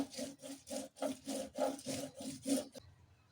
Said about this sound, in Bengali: একটু লেবু রস দিয়ে বাটবো